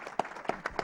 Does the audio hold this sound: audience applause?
yes